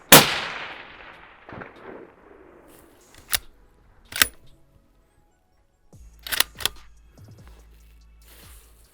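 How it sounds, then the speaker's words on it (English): A cold-bore first shot from a long-range rifle fired downrange toward 1000-yard targets cracks loudly at the start and rings out in a long decaying tail. Several fainter sharp clicks and knocks follow later. "This is a cold bore, first shot, downrange."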